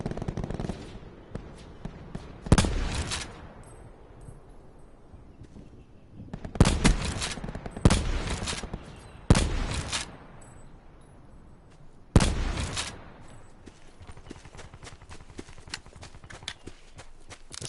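Gunfire in Call of Duty: Black Ops 4, several sharp bursts and single shots spaced a second or more apart, loud and near, with faint rattling and background game noise between them.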